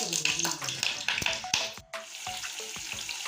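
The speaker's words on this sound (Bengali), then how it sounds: "এই দেখুন কড়াইটা আমার তেলটা গরম হয়ে গিয়েছে আর আমি একে একে এই পটলের পোর ভরা ডিমের পোর ভরা এখন আমি ছেড়ে দিচ্ছি" Pointed gourds stuffed with egg filling drop into hot oil in a pan and sizzle loudly, with crackling pops and clinks up close and a voice talking over the frying.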